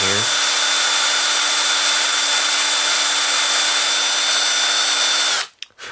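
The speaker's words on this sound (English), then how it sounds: "We're just going to drill a little bit in" A power drill whirs loudly and continuously at a steady high pitch, drilling into a horn for several seconds, then stops abruptly.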